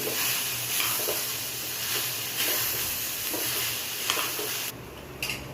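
Boiled beans are stirred into crumbled lentil usili in a hot pan, a continuous sizzle with repeated soft scraping strokes that drops away near the end.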